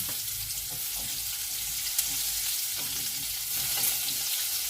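Zucchini pockets frying in a pan on low gas, giving a steady, even hiss of sizzling oil with a few soft clicks and stirring touches and no talking.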